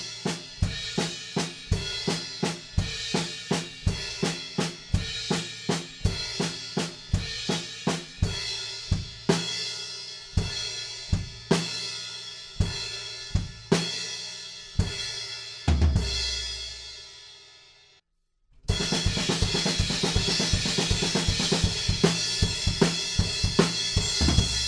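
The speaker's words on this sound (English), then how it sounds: "we're just playing groups of triplets, moving right and left hand on the crash cymbals" Drums in a tutorial groove with crash cymbals struck in triplet groups, alternating right and left hands. Repeated washy hits over kick and snare cut to a brief low swell and pause, then crash back louder.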